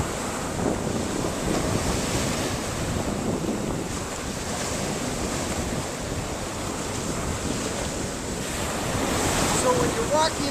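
Ocean surf washes onto a beach in a steady, continuous roar, with wind buffeting the microphone throughout and a slight swell in intensity near the end; no one speaks.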